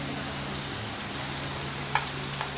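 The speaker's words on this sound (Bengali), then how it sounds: "দেখো কি সুন্দর লাল লাল ভাবে ভাজা হয়েছে।" Homemade paneer fries in a pan with a steady, close sizzle, a continuous crackling hiss broken by a couple of brief sharp clicks, likely utensil taps, with no talk heard.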